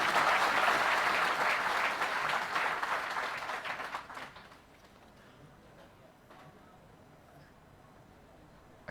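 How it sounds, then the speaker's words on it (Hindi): An audience at a ceremony honouring newly selected primary school teachers bursts into loud, dense applause that tapers off after a few seconds, leaving a faint room murmur. "इसके लिए आप अपने सम्मान में एक जोरदार ताली बजा दीजिए"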